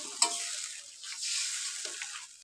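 Pieces of fried koi fish are dropped into a simmering potato and tomato curry, giving a soft sizzle with a few light clinks and stirring sounds, close and quiet.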